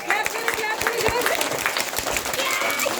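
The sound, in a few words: loud applause at a nursery school event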